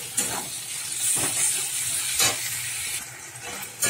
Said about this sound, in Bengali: একটুখানি পেঁয়াজ রসুনের সাথে আমি চিংড়ি মাছটা নেড়ে নিলাম।